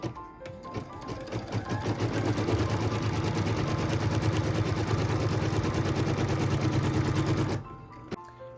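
A sewing machine stitches the tack-down line on a quilt block piece, running in one steady, fast, rhythmic burst of needle strokes for several seconds before stopping abruptly, close and alone.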